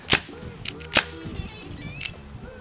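Airsoft Dan Wesson 6 revolver firing: two sharp, loud shots close by, then a softer third pop, with mechanical clicks in between and no talk.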